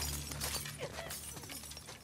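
Glass shatters in The Last of Us Part II, a short burst of breaking and crunching that fades out over about two seconds.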